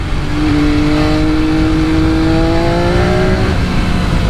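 Loud, steady engine drone rising smoothly in pitch as a 2020 MV Agusta F3 800 RC accelerates, heard up close with strong wind rush and no talking.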